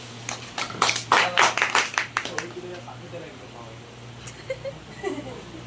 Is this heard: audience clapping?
yes